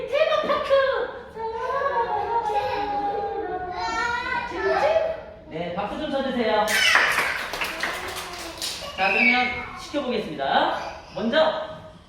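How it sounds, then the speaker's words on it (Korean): A group of five-year-olds claps for a classmate during a preschool PE class with an air-ladder game, a short burst of scattered hand claps under continuous children's chatter and a teacher's voice. "박수 좀 쳐주세요"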